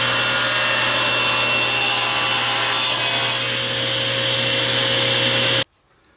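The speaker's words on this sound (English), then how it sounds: "So let me do a test cut and I'll see how that works out for us." A power saw cuts a test cut through a wooden board, a loud steady whine and rasp of blade through wood lasting several seconds before stopping abruptly into quiet, with no talk.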